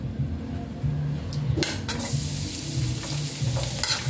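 Garlic sizzles steadily in a hot pan while a utensil stirs and scrapes it, with a brief sharper clatter partway through; close, continuous frying with no voices.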